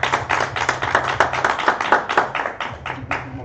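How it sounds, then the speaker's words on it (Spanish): An audience claps after a talk at a seminar on body, movement and health, a rhythmic run of distinct hand claps, close and fairly loud, with a low hum underneath. "Un aplauso para Omar."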